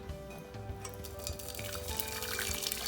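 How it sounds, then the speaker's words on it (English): Water splashes and sizzles into a pot over very high heat to steam vegetables, a bubbling, hissing pour that builds slightly over a few seconds, heard up close. "basically just add some water to it"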